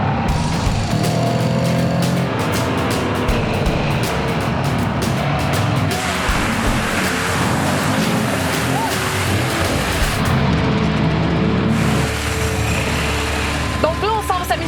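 A Honda off-road vehicle's engine drones and surges as it drives into sand, loud and close with rough rumbling, roaring bursts and a gritty, wind-buffeted texture throughout.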